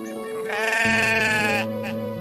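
A sturdy black goat with long horns lets out one long, wavering bleat in a jungle scene of a Hindi animal cartoon, loud and close.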